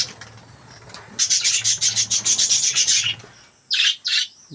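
Small caged birds chirp and twitter at dawn in a rapid run of bright, closely spaced calls, then pause, then give two brief bursts; the birds are close and there is no other sound beneath them.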